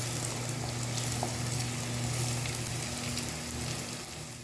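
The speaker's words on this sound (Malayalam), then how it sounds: "ഇതിലേക്ക് ചേർത്ത് കൊടുക്കുകയാണ് സവാള ചേർത്ത് കൊടുക്കാം" Sliced onions sizzling in a pan while a canned tuna roast is cooked, a continuous even frying hiss that fades slightly toward the end, with no voices.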